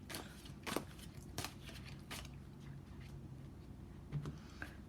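Tarot cards being shuffled and drawn: close, papery riffles and slaps in irregular bursts, with soft rustling between them and no talk.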